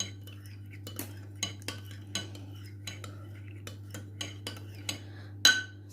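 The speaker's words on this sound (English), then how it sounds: "my stock, which I've been mixing up here with my spoon" A spoon stirring stock with hot water for soup, a series of light metallic clinks against the pot at an irregular, unhurried rhythm over a low steady hum, ending in a sharper clatter.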